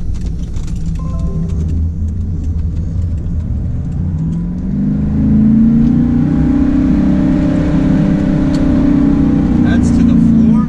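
A Pontiac Firebird Trans Am engine drones at full throttle but fails to rev, holding a dull, muffled whir that swells slightly without climbing in pitch. It is heard from inside the car, close and steady.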